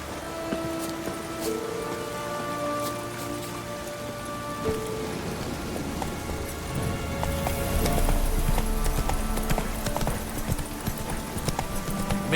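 Heavy rain falls in The Witcher 3 as a steady hiss that swells louder partway through, mixed with horse hoofbeats, brief game sounds and faint tonal music.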